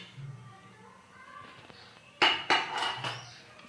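A spoon clatters and scrapes against a pan while coconut and coriander are stirred together, a few sharp metallic knocks followed by softer scraping, close by, with brief speech before them.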